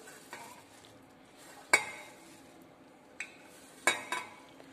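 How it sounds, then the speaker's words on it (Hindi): Green chillies for pickle being put into a bowl, with a few sharp metallic clinks and light clatters spaced a couple of seconds apart over soft background scraping, close and fairly quiet. "अब ये जो मिर्ची है हम इसको एक बाउल में डाल लेंगे"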